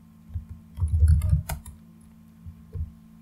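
Typing a command on a computer keyboard in a Linux terminal: a short burst of soft, close key clicks followed by a couple of isolated taps.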